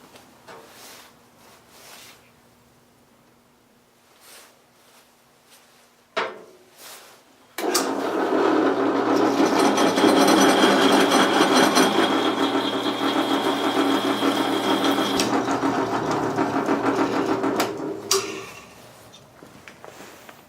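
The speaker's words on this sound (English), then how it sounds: "I'm going to finish drilling the bottom 2 holes to connect it now" A power drill bores holes in metal, running steadily for about ten seconds, a loud continuous whine and grind, after a few quiet knocks and brief handling sounds.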